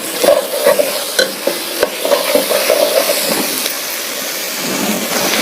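Tomatoes stirred and fried in a pan, a loud close hiss of sizzling with repeated sharp scraping clicks of the spoon against the pan in the first half, then a steady sizzle alone.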